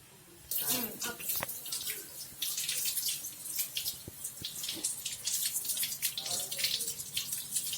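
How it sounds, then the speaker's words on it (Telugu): Tap water runs steadily and close by, splashing over something held beneath the stream, with no pause throughout. "దీన్ని శుభ్రంగా రన్నింగ్ వాటర్లో కడుక్కొని"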